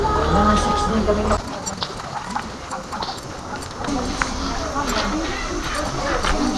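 Horse hooves clip-clop during horseback riding on a cold day, light irregular clops under people talking nearby, with an animal sound near the start.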